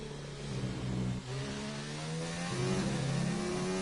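McLaren Formula 1 car in F1 2019 at Belgium, heard from onboard: a steady, loud engine whine climbing and dropping through gear changes with a brief dip, running alone.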